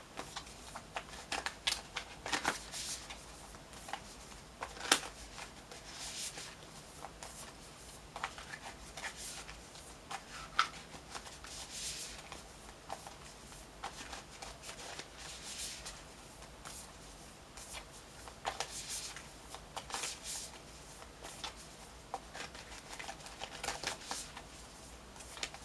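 Tarot cards being shuffled in a quiet room, a soft papery riffling and sliding that comes in repeated bursts with short pauses, close and gentle, with no voices.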